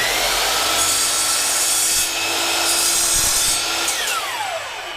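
A sliding miter saw cuts through wood in one continuous loud, raw rasping pass lasting about five seconds. The whine tapers as the blade winds down, and nobody speaks.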